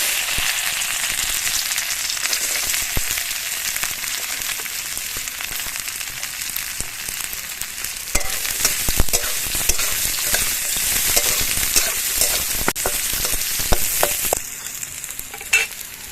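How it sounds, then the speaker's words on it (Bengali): Chopped carrots fry in mustard oil in a wok, giving a steady, close sizzle with bursts of stirring and scraping, and no voices over it. "কড়াইতে প্রথমেই দিয়ে দিচ্ছি"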